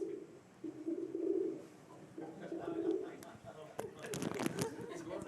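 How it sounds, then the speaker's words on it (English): Soft pigeon-like cooing in low repeated swells during a talk session, moderately near, followed by a burst of clattering noise near the end. "It does sound like a pigeon"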